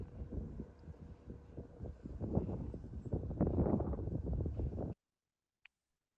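Strong wind buffets an outdoor microphone with loud, gusty rumbling that builds and swells for several seconds before cutting off abruptly into silence, followed by one faint tick.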